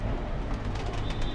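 Pet pigeons kept in an open loft coo softly and continuously at close range, a low murmuring burble with no talk over it.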